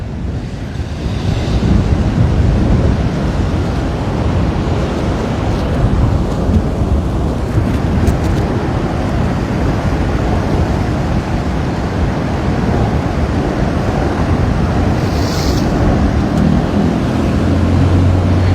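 Blustery wind and breaking surf at Waikiki beach in Hawaii form a loud, continuous roar that holds steady without a break.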